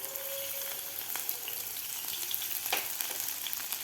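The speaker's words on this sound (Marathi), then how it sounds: "अद्रक लसूणची पेस्ट आपल्याला व्यवस्थित फ्राय करून घ्यायची आहे." Ginger garlic paste fries in hot oil in a pan, producing a steady close-up sizzle and crackle with a few sharper pops and faint stirring scrapes.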